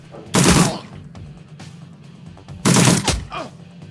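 Two loud bursts of gunfire in the video game Shadowrun Returns, a pair of sharp volleys separated by a couple of seconds of quieter background.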